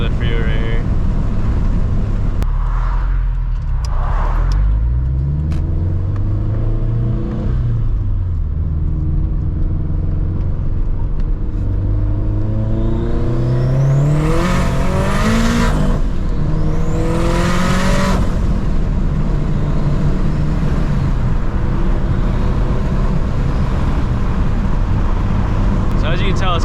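A turbocharged Subaru BRZ accelerating hard onto a freeway, its engine note climbing through several rising sweeps with gear changes. It is loud and close from inside the cabin, with a driver talking over it.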